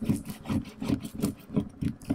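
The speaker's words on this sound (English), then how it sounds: "burnish it really good with the bone folder" A bone folder burnishes paper in a rapid series of rhythmic rasping rubs, about eight strokes, close and clear with no talking over them.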